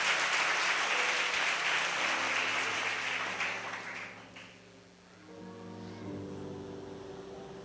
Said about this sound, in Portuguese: Então aplaude a poderosa palavra de Deus aqui